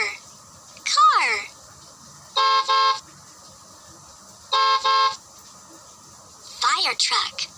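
Two short car horn honks, each a steady double toot, separated by pauses, with brief swooping whistle-like sounds at the start and end.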